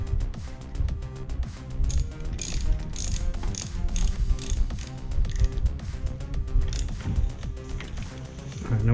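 Close, rapid ratcheting clicks as a nut is run onto a Porsche 944 Wilwood brake hub, repeating in quick bursts with brief pauses and some metallic clinks between strokes.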